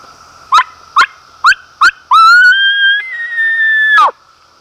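A diaphragm predator call imitating a pup in distress: four short, sharp yips followed by one long, rising, wavering whine, loud and close, alone.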